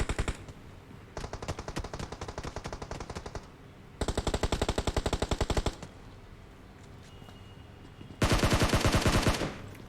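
Automatic gunfire in PUBG Mobile, three long rapid bursts of shots with short pauses between them, loud and close, the last burst the sharpest.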